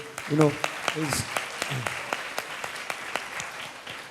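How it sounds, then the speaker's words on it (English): Audience clapping for teachers at a college conference event, moderate steady applause with a voice briefly speaking over the start. "a huge round of applause to all the teachers who've come here today"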